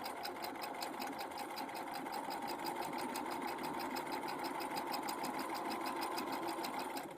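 A sewing machine stitches fabric down the side of a pocket at a 5/8-inch seam, a close, even, rapid needle chatter that runs unbroken for about seven seconds before stopping.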